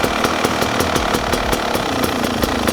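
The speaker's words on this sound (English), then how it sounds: "Can you hear how much richer that bike is now?" Motorbike engine idling at a steady, fast-pulsing rhythm after the carburettor air screw is closed to richen the mixture, heard close up with no talk.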